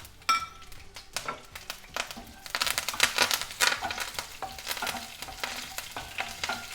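Urad dal, cumin, green chili and curry leaves crackle in hot oil in a pan, with a busy sizzle and repeated clinks and scrapes of a spoon stirring, close and fairly loud throughout.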